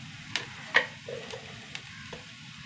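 Onions sauté gently in a pan with a faint, low sizzle, broken by a few light ticks and clicks of stirring.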